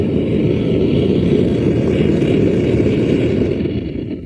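A propane blacksmithing forge burner roars as its regulator opens: a loud, steady, close rushing blast that softens slightly at the end.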